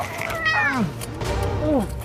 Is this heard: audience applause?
no